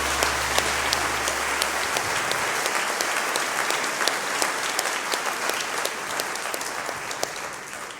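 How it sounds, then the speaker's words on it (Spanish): A church congregation applauding the Lord steadily, dense clapping that stays loud and even for the whole stretch, with a low hum dropping away early on. "Den un aplauso al Señor"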